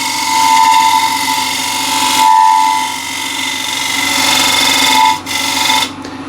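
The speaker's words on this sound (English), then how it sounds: "use a refiner as a shear scraper" A refiner tool used as a shear scraper lightly cuts an enclosed wooden vessel on a lathe, giving a continuous whining scrape over a tonal motor hum, with brief dips partway through.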